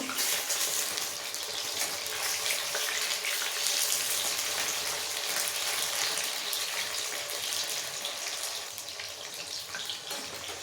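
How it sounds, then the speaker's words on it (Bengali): Chicken pieces sizzle steadily in hot oil for a home chilli chicken dish, a dense continuous frying hiss with faint scraping as the pieces are turned, fairly close and with no talking. "এভাবে উল্টে পাল্টে চিকেনগুলো ভেজে নেব"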